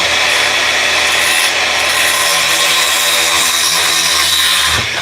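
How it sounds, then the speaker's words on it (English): A handsaw cuts wood on a chop saw table at a cabin build site, giving a loud, steady rasping stroke that runs unbroken for several seconds before stopping, with no talk. "He's using the handsaw on the chop saw table."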